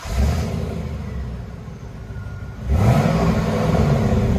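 A 1998 Chevy Camaro Z/28 convertible with a 5.7L V8 and dual exhaust through an 18-inch Magnaflow muffler idles with a deep rumble, then revs up sharply and holds a loud, throaty tone near the microphone.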